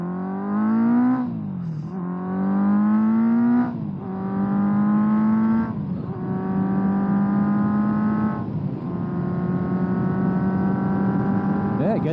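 A 1979 Honda CB750F Super Sport motorcycle accelerates hard through several gears, its engine note climbing in pitch and dropping at each shift, loud and close throughout.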